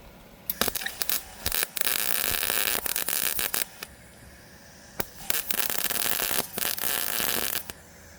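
MIG-style welding of a metal patch with the metal burning through, crackling sizzling bursts in several runs of about a second each, separated by short quiet pauses, close and fairly loud.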